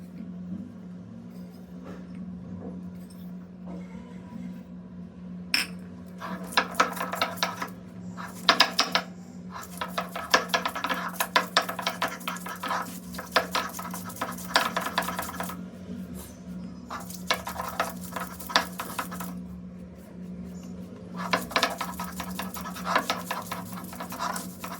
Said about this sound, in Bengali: এখানে আছে আদা রসুন আর হচ্ছে কাঁচামরিচ, এগুলো এখন আমি পাটায় বাটবো।